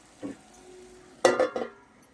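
A few short scraping stirs of a spoon through tomato curry in a pan, with a brief clink and faint sizzle, close by and otherwise quiet.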